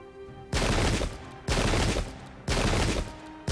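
Three loud, evenly spaced volleys of massed musket and cannon fire from the English Civil War battle game Pike and Shot, each a sharp broadband burst that decays over about a second, with no talk.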